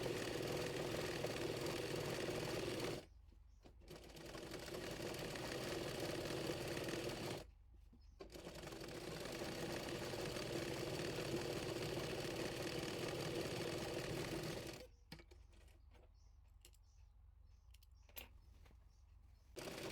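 A sewing machine top-stitches a kameez in long, even runs broken by brief pauses, then stops near the end, leaving faint handling clicks; the sound is quiet overall.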